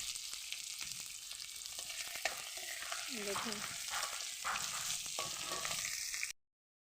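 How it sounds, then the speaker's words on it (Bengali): Potatoes coated in salt and turmeric fry in oil with a steady crackling sizzle and occasional stirring scrapes, while a voice speaks briefly; the sound cuts off abruptly near the end. "আলুটাও সুন্দরভাবে ভাজা হয়।"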